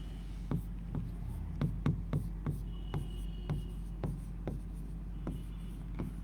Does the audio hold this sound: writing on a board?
yes